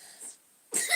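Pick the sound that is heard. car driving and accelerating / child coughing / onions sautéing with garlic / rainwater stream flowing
child coughing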